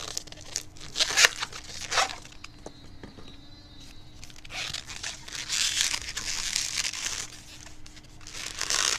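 Close squeaky rubbing and crinkly stretching as a twisting balloon is pinched and twisted into a baby carrot shape, bursts of friction noise with short quieter gaps.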